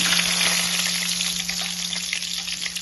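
Curry leaves sizzling in hot oil with mustard seeds and cumin, a loud, continuous crackling fry with fine popping, close and steady from start to finish, with no talking.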